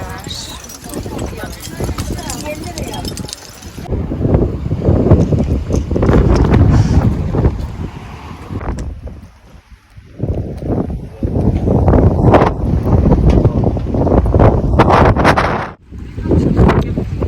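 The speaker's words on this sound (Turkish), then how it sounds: "Dehşet rüzgar var kanka." Strong wind roars and buffets the microphone in heavy, gusting waves while people talk nearby, in Çanakkale, Turkey.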